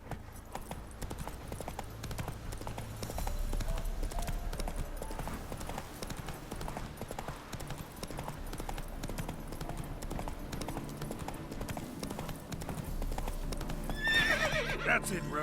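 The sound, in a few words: horse Roach galloping in video game The Witcher 3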